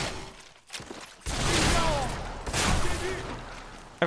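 Shotgun blasts from the Bodycount video game come in a few loud, broad bursts of about a second each, with short gaps, followed by scattered action sounds.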